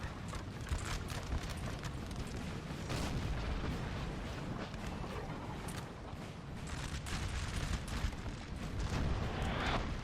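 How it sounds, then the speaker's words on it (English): Cannon fire in the Napoleonic Total War 3 multiplayer battle game, repeated distant booms and cracks over a dense rumbling battlefield bed with a faint clatter of hooves. "Artillery is going to already start opening up fire."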